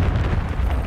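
Grenade explosion in Call of Duty: Modern Warfare III, a loud, deep rumbling blast that fills the whole moment with heavy low-end roar.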